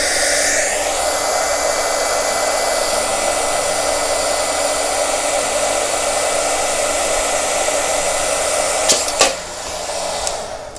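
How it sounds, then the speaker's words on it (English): A heat gun blows hot air onto a Shrinky Dinks plastic charm, a loud continuous fan-and-element whir that holds steady close up, followed by a couple of faint clicks and a slight shift near the end. "And now my heat gun is a bit hotter, so hopefully that means it's going to work better."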